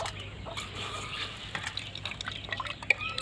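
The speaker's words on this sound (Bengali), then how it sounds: "2 ঘন্টা ভিজাবার পরে এবার জলটাকে ছেঁকে দেবো আমি।" Water strains off raw rice that has soaked for two hours, ahead of grinding it for a village-style rice-flour pitha; faint, steady trickling with scattered small drips, no voices.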